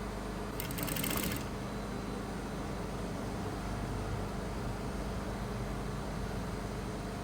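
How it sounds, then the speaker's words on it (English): Sewing machine stitching a seam down fabric while piping is made, a steady fast mechanical whir running throughout, with a brief brighter rattling burst near the start and no talking. "So I'll sew this all the way down"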